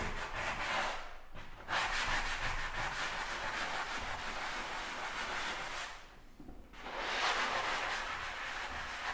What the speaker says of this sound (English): Go ahead and sand each area just so that we make sure it's smooth.